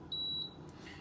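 A Power XL cooker gives a single sharp, high electronic beep as its temperature is set, followed by a quiet tone in a kitchen.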